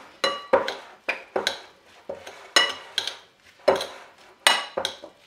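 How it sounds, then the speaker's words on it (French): Red cabbage is tossed with vinaigrette in a bowl: a utensil knocks and scrapes in repeated, evenly spaced strokes, each a sharp clink followed by a short rustle, close and alone. "Je viens commencer par mélanger mon chou à ma vinaigrette."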